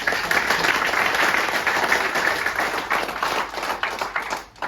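An audience in a leadership talk hall claps steadily and fairly loudly for a few seconds, the applause thinning slightly near the end.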